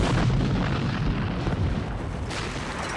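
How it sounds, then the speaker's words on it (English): Deep, continuous rumble of Civil War artillery fire on the Antietam battlefield, a heavy low roar rolling steadily throughout with no speech. "And then suddenly that rumble of artillery grows and the orders come."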